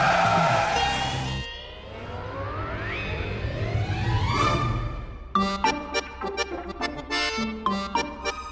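A car engine drones and rises in pitch as it speeds up, with a tire squeal sweep, then a burst of sharp crashing and clattering impacts in quick succession.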